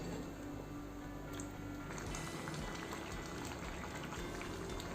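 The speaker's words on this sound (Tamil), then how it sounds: "இப்போ இது நல்லா ஆயில் பிரிஞ்சு வர வரைக்கும் நல்லா கொதிக்கட்டும்." Steady bubbling and popping of thick homemade tomato pizza sauce boiling in a pan until the oil separates, continuous and close, with no voices.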